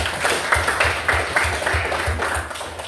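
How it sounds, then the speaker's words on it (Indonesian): Students in a history classroom give a burst of applause after a reading of the proclamation text, several seconds of near, steady clapping from a group. "Tepuk tangan dulu Mbak"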